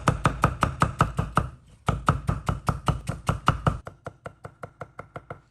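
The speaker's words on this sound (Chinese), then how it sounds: "再切成细丝" A kitchen knife quickly chopping slices of water bamboo (jiaobai) into fine shreds on a cutting board, a rapid steady run of crisp sharp taps, close and loud, with a brief pause partway and lighter strokes at the end.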